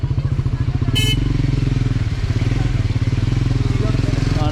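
A motorcycle engine thuds loud and close at a steady rapid pulse on a busy Udaipur street, with a brief sharp clatter near the start and talking over the engine.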